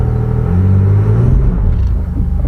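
A car engine at a Copart auction yard rising briefly in a short rev as it is put into gear, a close, loud rumbling surge that settles back within a couple of seconds, no talking.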